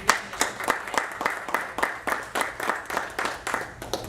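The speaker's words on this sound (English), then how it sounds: "we gave you a round of applause" Rhythmic applause during a school district board of trustees meeting, a modest group clapping in fairly even, distinct bursts about twice per second, moderately close.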